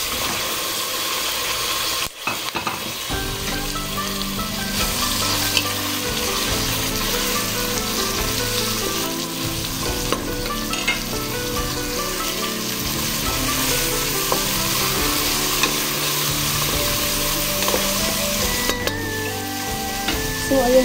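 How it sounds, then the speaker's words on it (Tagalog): Tomato added to browned onion and garlic frying in a pan for sardine noodles with water spinach, a steady close sizzle with stirring scrapes throughout, no talking. "dahil medyo nag-brown na yung ating sibuyas at bawang guys, ilagay ko na yung ating tomato"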